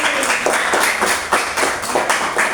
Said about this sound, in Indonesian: Beri tepuk tangan dong buat Jubri.